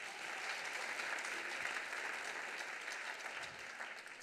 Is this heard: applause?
yes